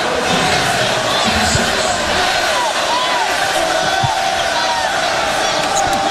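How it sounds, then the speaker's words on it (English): A frustrated basketball arena crowd at a 2009 NCAA West Virginia–Pittsburgh game keeps up loud, dense, unbroken booing and roaring that fills the space evenly from start to finish. "This is not a happy crowd."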